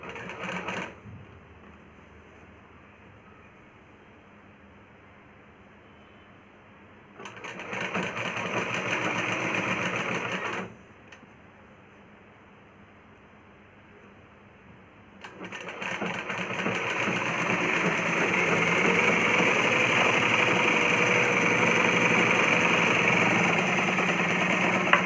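Sewing machine stitching plain blouse fabric, a low idle hum broken by two runs of fast mechanical whirring, the second one longer and louder, no talk.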